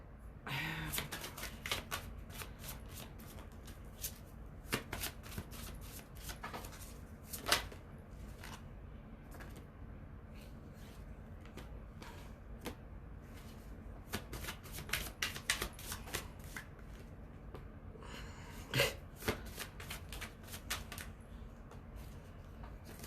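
Tarot cards shuffled by hand in steady bursts of crisp riffling and soft slides, close and fairly quiet, with a few sharper snaps and pauses between runs and no talking.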